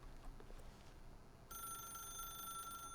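A telephone rings in The Stanley Parable video game, starting halfway through as a steady electronic ring that holds bright tones. It sounds clear against a quiet, low room hum, with no voices.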